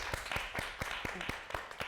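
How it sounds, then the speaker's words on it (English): Audience applause after a talk on directing and producing, a faint, sparse clapping with distinct individual claps in a loose rhythm, heard from a distance. "Let's all give her a round of applause"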